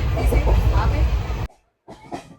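The Araku train rumbles along the tracks with a loud, steady roar, then drops abruptly into near silence before a few fainter rattles return.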